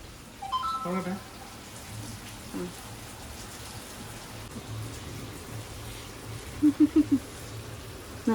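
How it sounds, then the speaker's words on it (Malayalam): Steady rain hisses softly in the background, muffled as if heard from indoors, with a few brief faint sounds over it. "പുറത്ത് നല്ല മഴ"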